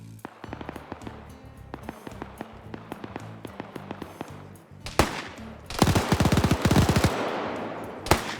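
MG3 machine gun fired from a bipod in a multiplayer video game battle, sharp rapid shots in rhythmic bursts, then heavier, louder sustained fire and a final blast near the end.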